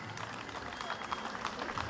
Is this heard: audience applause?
yes